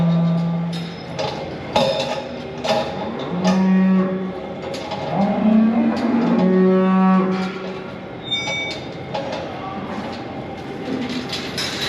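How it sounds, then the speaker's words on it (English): Dairy cows in a barn low repeatedly while waiting to be milked, several loud, drawn-out moos overlapping with clanking and metallic rattles nearby. "Cows are over there."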